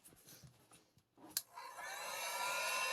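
A home heat gun drying craft paint: steady rising whoosh of blown hot air building after a brief click, holding loud and continuous to the end with no talk.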